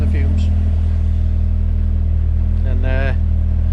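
A Peugeot 205 GTi Mi16 engine runs at a steady loud idle, a close, even low drone; near the end someone speaks briefly over it, and no clear throttle blip stands out.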